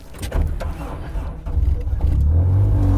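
A Honda 4-cylinder engine in a 240 HP all-wheel-drive Mini cranks and fires, then revs up into a loud, rising low drone heard from inside the car.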